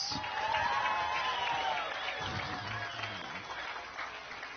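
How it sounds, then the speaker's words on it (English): Crowd at a Bassmaster Elite fishing weigh-in on the St. Lawrence River applauds the Waddington fire and police crews, a fairly loud wash of clapping with some cheering and voices mixed in. "Give them a round of applause."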